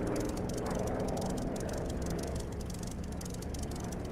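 Steady, loud engine drone of a small plane in a flight simulator video game, continuous and even throughout with a constant whirring hum and no talk over it.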